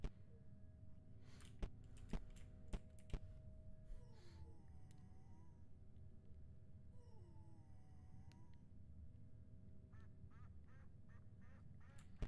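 Ducks quack repeatedly in the video game Doors during its April Fools mode, a few distinct calls over a low background hum, with sharp clicks early on.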